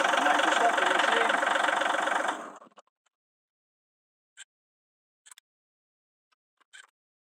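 McConnel Robocut RC40 Gen 2 remote-controlled mower engine running at a steady mid-pitched chug for two seconds, then winding down and stopping, followed by a few faint brief clicks in near silence.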